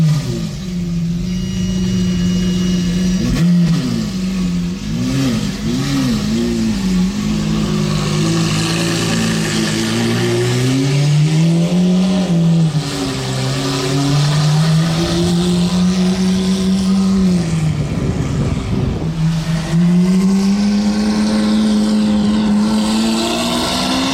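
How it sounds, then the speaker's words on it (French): A V8 supercar engine revs hard and accelerates up close, a loud continuous roar whose pitch climbs, dips and climbs again through gear changes, with no talking. "Même plus le moteur du V8 là du G."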